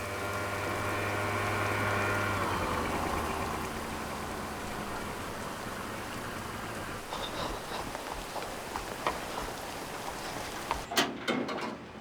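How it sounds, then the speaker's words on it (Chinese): Rain falling outside, a soft continuous hiss with a low electrical hum underneath, turning patchier with scattered drips and taps toward the end; no talking. "外面下雨哎。"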